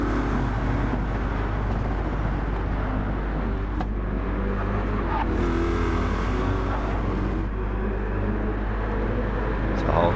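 Race cars accelerating out of the final corner in Gran Turismo 7 during a 90-minute endurance race with retro liveries, a steady engine drone with crowd and track ambience, under a speaking voice throughout.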